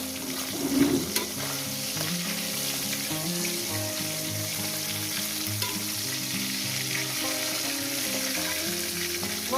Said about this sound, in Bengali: মাছগুলো ভেজে নিয়ে দিচ্ছি এই মাছগুলো ভাজা হয়ে গেছে